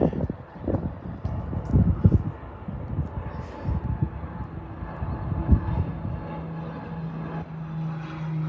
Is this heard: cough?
no